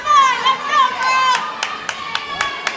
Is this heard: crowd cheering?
yes